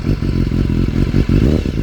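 A supersport motorcycle engine idles with a loping, uneven beat, then gets a brief rev, loud and close.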